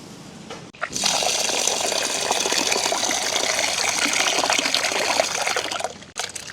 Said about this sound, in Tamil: பருப்பு வந்து ஒரு கால் கிலோ அளவில் எடுத்துருக்குறேன் இதை முதல் வந்து கழுவி எடுக்க போகிறேன்